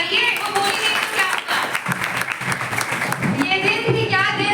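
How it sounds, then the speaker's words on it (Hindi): An audience at a B.A. farewell ceremony claps for a student, a continuous burst of crowd applause heard under a speaking voice throughout. "दीदी के लिए एक बार ताली तो बजाइए"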